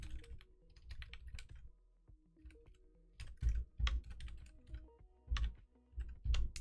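Close, uneven computer keyboard typing while code is written, bursts of clicking keys with heavier thumps from the space bar and short pauses between runs.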